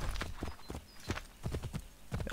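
Horse hooves clip-clop in a steady trotting rhythm while riding through the streets of Boston in Assassin's Creed 3, close and fairly loud, with a brief whinny-like touch.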